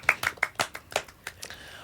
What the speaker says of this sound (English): So a round of applause for you again.